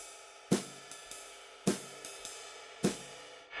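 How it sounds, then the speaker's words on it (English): Sparse jazz drum kit pattern with sharp cymbal and snare hits repeating in a steady rhythm, accented strokes followed by lighter taps, no kick drum. "Your average rhythm without the bass drum would sound like this."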